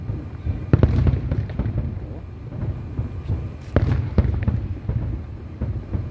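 Fireworks at an Eid display in Jeddah boom and crackle at irregular intervals, some bursts close and sharp, others duller and more distant, over a constant low rumble.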